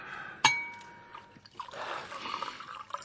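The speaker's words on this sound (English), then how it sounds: "Top up the fellow's glass." A glass clinks with a brief ringing tone, then a drink pours into it in a soft, steady trickle, staged as a radio drama sound effect; the sounds are fairly quiet and close.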